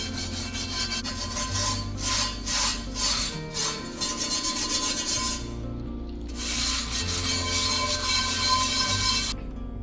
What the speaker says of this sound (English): Let's give it a little scrub, try to get the rest of this off